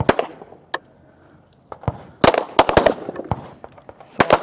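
Rapid pistol shots ring out on a women's elite shooting competition stage, several sharp close reports in quick bursts separated by short pauses.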